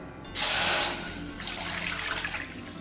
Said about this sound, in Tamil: அதில் நம்ம தண்ணி ஊற்றிக்கலாம்.